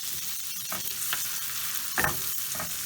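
Finely diced shallots frying in a pan, with a steady close sizzle and occasional stirring scrapes, no talk.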